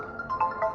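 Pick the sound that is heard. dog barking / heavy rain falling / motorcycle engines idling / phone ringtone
phone ringtone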